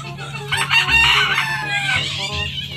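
A rooster crows loudly and close by in a farmyard, one long drawn-out call rising over steady background noise, with someone speaking Tagalog faintly around it.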